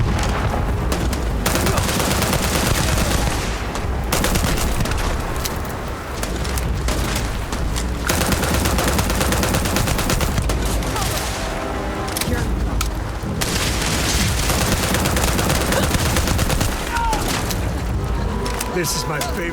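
Sustained gunfire and booming blasts fill a firefight in the sci-fi video game Starfield, dense and loud almost throughout, with shouting voices mixed in.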